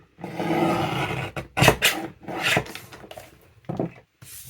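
Paper being cut for a handmade shabby-style notebook: close, dry rasping and rubbing strokes in irregular bursts, with a few sharper snips and short pauses between them, no voices.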